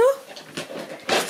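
Small dog whimpering in a high, falling whine, then panting in short quick breaths up close, with a brief burst of noise near the end.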